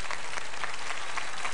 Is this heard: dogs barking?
no